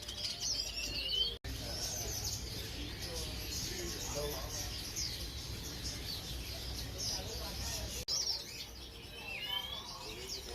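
Dense chirping and tweeting from many caged birds of assorted sizes fills a busy Hong Kong bird market, with occasional cooing, a steady crowded wash of calls continuing throughout.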